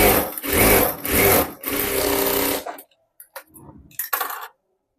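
Sewing machine stitching the lining of a blouse front panel, three close, loud whirring runs of stitching in quick succession, followed by quiet pauses broken by a few short clicks and taps of handling.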